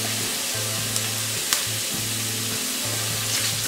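Onions sauté in a pan for a drumstick leaf stir-fry, a continuous close sizzle with an occasional utensil tap, over an intermittent low stove hum.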